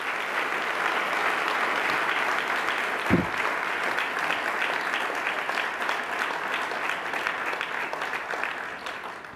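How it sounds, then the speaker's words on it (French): Warm, sustained applause fills a banquet hall at a 2023 induction dinner, with a steady wash of many hands clapping at once and a single louder thump partway through. "Je pense que ça prend une bonne main d'applaudissements."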